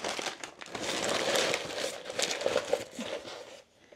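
Paper being crumpled by hand into a packing buffer for a shipping box, a soft, continuous crinkling and rustling up close that lasts several seconds before stopping.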